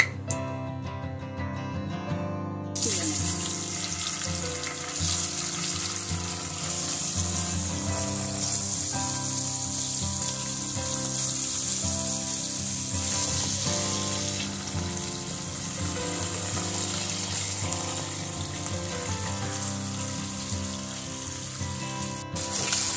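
Fish fried in hot mustard oil in a wok sizzles loudly and steadily, a dense continuous crackle starting after a short quiet moment and holding to the end.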